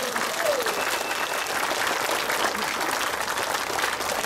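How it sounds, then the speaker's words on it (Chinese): A crowd claps steadily at a political rally, dense applause holding at an even level throughout, with no pause. "明白嘅唔該拍手"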